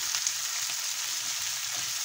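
Chopped onion frying in a hot oiled pan, a steady bright sizzle with light crackles, close and continuous without talk.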